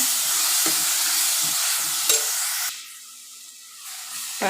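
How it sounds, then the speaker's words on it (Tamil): Ground tomato paste stirs and sizzles in hot oil for a chickpea sundal biryani, a steady frying hiss broken by scraping strokes of the spoon. About midway it settles into a quieter, softer sizzle. "இது நல்லா எண்ணெய் பிரிஞ்சு வர வரைக்கும் நல்லா வணக்கிக்கிங்க, பச்சை வாசனை போக வரைக்கும்"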